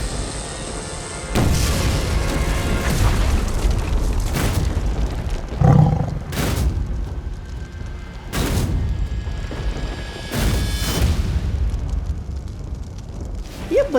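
Magical fireworks blast in a fantasy superhero TV show, a series of loud roaring booms and whooshing bursts at intervals over a rumbling backdrop, with no speech.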